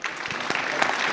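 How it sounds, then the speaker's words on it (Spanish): A brief burst of clapping from a group at an international transport congress, moderately loud, with a few sharper claps standing out. "y pues un aplauso para nuestros"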